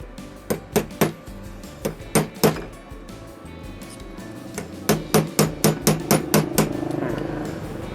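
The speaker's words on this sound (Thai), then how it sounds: "ค่อยๆตอกไปนะครับผม" Sharp metallic hammer strikes ring out in two sets as a pin is driven into a wall fan's oscillation motor, a few spaced blows followed by a quicker steady run of about eight hits.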